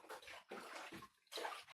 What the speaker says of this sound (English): I'm going to be adding some hot liquid, some more hot liquid to this